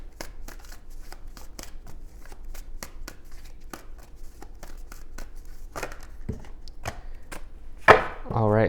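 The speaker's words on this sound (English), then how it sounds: "Let's go ahead and let's take a look at getting some oracle cards here." Oracle cards are shuffled in a steady run of crisp, close riffling taps and slaps, with a louder rustle and shift near the end.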